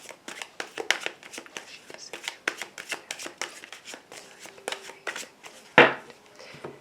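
Tarot cards being shuffled by hand: a steady run of crisp riffling slaps and flutters, close and moderately loud, ending in one sharper snap of the deck.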